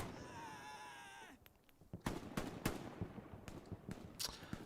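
Firefight in the video game Hell Let Loose during an 18-versus-18 tournament match: scattered rifle and machine-gun shots crack at varying distances, some sharp and near, others softer, after a steady whine fades out.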